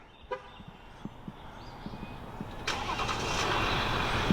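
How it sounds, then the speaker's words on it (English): A Jeep Gladiator diesel engine starts by remote start, a few faint clicks and cranking pulses followed by the engine catching and settling into a steady rumbling idle, heard from nearby outdoors. "you can hear that diesel come to life"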